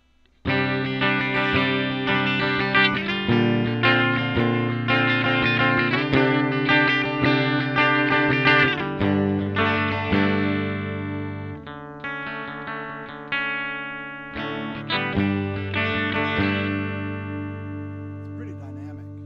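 An electric guitar played through a Spark 2 amplifier on a clean tone rings out with strummed chords and sustained notes, each attack decaying before the next, steady and close for nearly twenty seconds.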